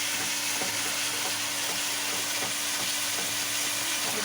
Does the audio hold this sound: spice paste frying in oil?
yes